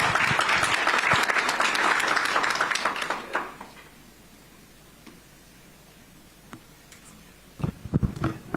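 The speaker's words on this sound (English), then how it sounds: "A round of applause, please" Loud applause from a crowd at a media address in Addis Ababa fills the first few seconds, then fades to quiet room tone, with a few scattered claps returning near the end.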